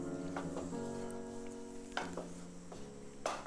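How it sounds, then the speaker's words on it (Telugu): Gram flour frying in ghee for Mysore Pak while a spoon stirs and scrapes the pan, a soft continuous sizzle broken by several sharp clinks of metal on metal. "తిప్పేటప్పుడు కూడా ఉండల్ని స్పూన్తో నలగొడుతూ మొత్తం శనగపిండి నేతిలో ఫ్రై అవ్వాలి, అంతవరకు ఫ్రై చేయండి"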